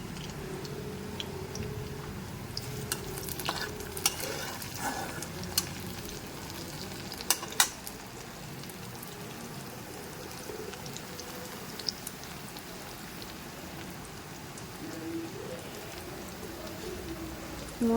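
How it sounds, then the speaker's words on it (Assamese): Onions frying in leftover fish-frying oil, a steady soft sizzle and crackle running throughout at moderate level, with a few sharper pops and spits scattered through it and no talking. "এইফালে মই মাছ ভজা তেলখিনিতে পিঁয়াজ দি দিছোঁ।"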